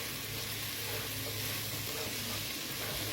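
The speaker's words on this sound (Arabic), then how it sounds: "هشوح الثوم لحد ما ياخد لون ذهبي خفيف" Five or six garlic cloves sizzling in a pan as they fry toward a light golden colour, a dense, continuous crackle close up with no talking.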